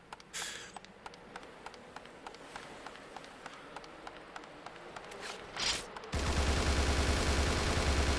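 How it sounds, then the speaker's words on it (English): Enemy gunfire crackles in the Bullet Witch video game as a run of sharp, evenly spaced shots with running footsteps under them, followed by a louder, dense burst of fire in the last couple of seconds. "There's a few of them shooting."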